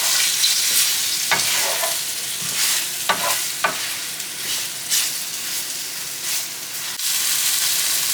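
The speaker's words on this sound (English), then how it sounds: "That's the key to getting like really good stewed meat, is to brown the meat well." Venison stew meat browns in a hot pan with a loud, steady sizzle, broken by several sharp bursts of stirring and scraping.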